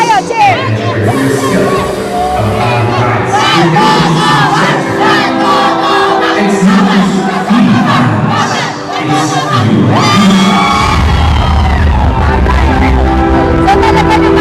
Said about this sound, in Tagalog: Mag-cheer po kayo, cheer!